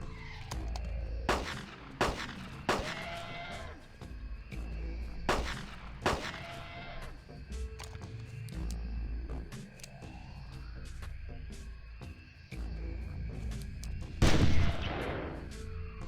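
Sniper rifle shots fired at raptors in the hunting game Carnivores, several sharp, loud reports spaced a few seconds apart, each ringing out over a steady ambient game background with no talking.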